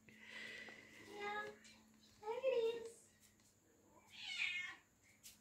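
A pet cat meows three times close by, drawn-out plaintive calls spaced a second or two apart in an otherwise quiet room.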